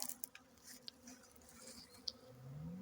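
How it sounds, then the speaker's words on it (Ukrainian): Honeybees buzz faintly in the background at an apiary in late October, circling before returning to their hives, a soft continuous drone with a rising hum near the end, plus a few small ticks and taps. "Бджоли покружляють і вернуться до вуликів, а там розійдуться"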